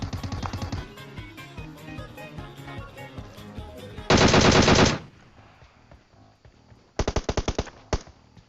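Rapid automatic gunfire in a PUBG match, a loud sustained burst midway, then several short sharp volleys near the end over quieter background shots, with no voices.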